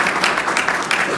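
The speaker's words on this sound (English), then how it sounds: "So let's give her a round of applause." A short burst of audience applause for Anissa Muhammad at a religious gathering, a loud, dense wash of clapping.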